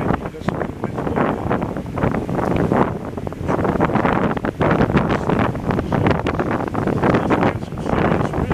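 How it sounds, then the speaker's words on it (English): Strong wind on a beach at Ao Nang Noppharat Thara in Krabi, Thailand buffets the microphone with a steady, roaring rumble and irregular gusts throughout. "I can't shoot the wind, that's where the wind's blowing."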